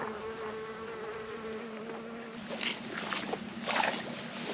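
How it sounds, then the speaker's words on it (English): Honeybees buzz faintly around small aster flowers outdoors, a soft steady hum with a few louder passes near the end, alongside a thin high insect drone. "there's a ton of honeybees in here."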